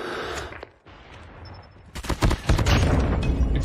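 Gunfire from a white-and-gold skinned weapon in Call of Duty Mobile, starting with a loud shot, a short lull, then a dense, loud burst of rapid shots.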